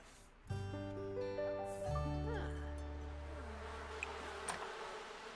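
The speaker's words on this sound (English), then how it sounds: "Isaac, what are you doing with the bees?" A steady electronic buzzing drone with layered sustained tones from bees in The Sims 4, continuing without pause at moderate volume.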